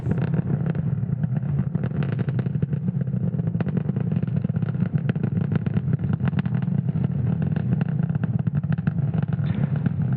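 SpaceX Falcon 9 rocket climbing away after liftoff from Slick 40 at Cape Canaveral, Florida, on a Starlink Group 6-3 mission at night: a steady, dense, continuous roar with crackling texture, loud and unbroken throughout.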